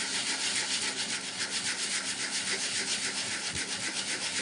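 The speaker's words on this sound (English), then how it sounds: "pressing on the abrasive nice and flat, so you're taking the casting base off nice and evenly" Scale model pod, wrapped in masking tape, rubbed in circles on 150 grade abrasive paper, giving a steady, close, continuous scratchy rasping with no talk.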